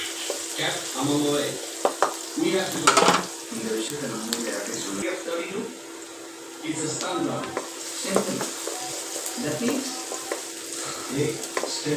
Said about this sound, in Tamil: வெங்காயத்தை போட்டுக்கலாம். நல்லா வதக்கிக்கலாம்.